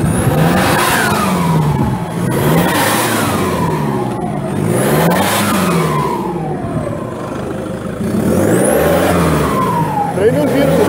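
A Toyota Hilux with a 3.0 turbo engine is revved hard, its loud engine note climbing and falling in several repeated sweeps, with the turbo whistling above the roar.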